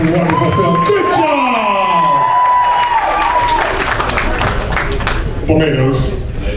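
Audience claps and cheers at a costume contest, a dense, loud applause that continues alongside music and a voice speaking over it, then swells again near the end.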